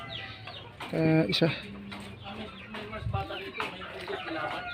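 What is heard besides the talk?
chickens clucking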